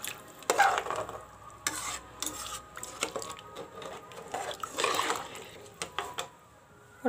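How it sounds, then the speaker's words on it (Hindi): Rice and water stirred in a pot for masala khichdi, with a spoon scraping and sloshing in repeated uneven strokes, close and moderately loud with no talking. "मिक्स कर लेंगे।"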